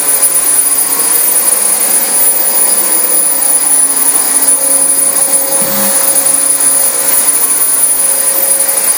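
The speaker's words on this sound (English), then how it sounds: "Alright, we're going to vacuum the edges next." A vacuum cleaner running on apartment carpet gives a loud, steady roar with a high whine, unbroken and close throughout, with no talking.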